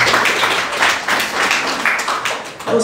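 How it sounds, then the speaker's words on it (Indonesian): A church congregation applauds together during a worship service, a dense, continuous wash of many hands clapping at close range for a few seconds, with no voices standing out. "Tepuk tangan untuk Tuhan."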